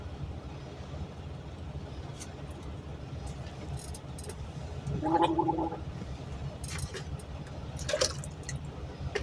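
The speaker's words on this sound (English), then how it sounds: "I'm in my truck brushing my teeth" Someone brushes their teeth inside a truck, with wet scrubbing and a brief gargling, sloshing burst partway through over a low steady cabin rumble, plus a few faint clicks.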